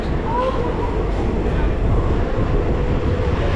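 The Chennai Egmore–Mangaluru Express rumbles along near Tirur in a steady, continuous low roar, heard from inside a general carriage.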